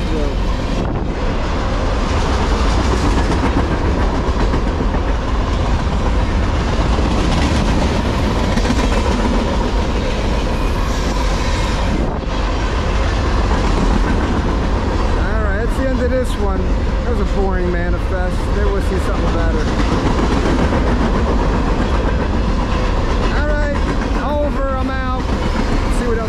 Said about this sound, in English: The five trains come through.